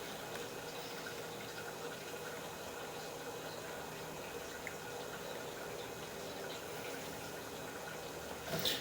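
Water draining down through a freshly flushed drain pipe line gives a faint, steady hiss and trickle, continuous and even throughout, with a slight rise in rushing near the very end.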